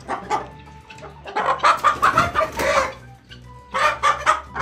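Guinea fowl and chickens cluck and squawk near a rooster in a farmyard, in loud, close, irregular bursts with brief pauses between them.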